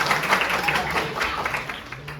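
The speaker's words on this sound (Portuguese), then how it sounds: "palmas para ela" Brief applause from a class audience, a short burst of scattered clapping with a low murmur of voices underneath, moderately loud and fairly even across its length.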